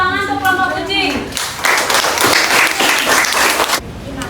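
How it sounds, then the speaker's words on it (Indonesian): Classroom applause for a student group in a Grade 5 elementary lesson, with speech at the start before a burst of dense, close clapping from many students that ends abruptly. "Tepuk tangan untuk kelompok kucing."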